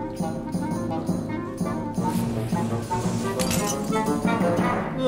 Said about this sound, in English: And lantern smashed.